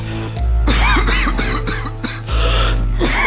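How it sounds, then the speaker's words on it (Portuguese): Man coughing repeatedly in short, harsh bursts at close range, several rough throaty coughs in a row with a loud low rumble underneath, in an abandoned morgue. "Nossa, eu odeio quando eu tô tossindo"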